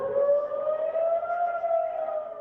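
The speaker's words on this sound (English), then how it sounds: "sirens sounded at the exact moment of the music festival massacre 2 years ago" A civil defense siren wails in a steady, unbroken tone during an Oct 7 anniversary memorial service in Melbourne, moderately loud and carrying, with no voices.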